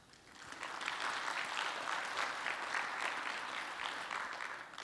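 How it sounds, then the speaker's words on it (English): An audience at a scientific talk session on host-associated microbiomes bursts into steady applause that holds for several seconds, a dense even wash of clapping slightly distant in the room. "Join me in another round of applause"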